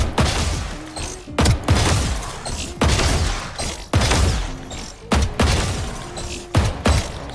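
Repeated gunshots in an aim-training drill in a shooter video game, sharp cracks in irregular bursts about every second, loud and close with no talking.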